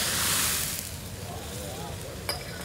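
Grease fire in a kitchen doused with water: a loud hissing, sizzling flare-up that swells at first and then settles into a rough, crackling roar.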